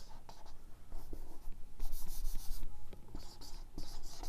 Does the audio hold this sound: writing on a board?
yes